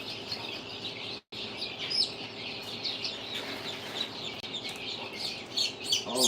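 Baby chicks and other barnyard birds chirp and cluck continuously in a barnyard, a busy chorus of bright peeping calls over a steady low hum, with one brief dropout.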